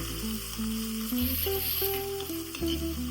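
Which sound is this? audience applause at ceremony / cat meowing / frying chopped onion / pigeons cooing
frying chopped onion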